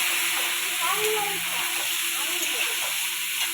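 Hard vegetables go into a hot pan for a mixed vegetable curry, giving a steady loud sizzle and hiss of frying with faint stirring, close by and without talk.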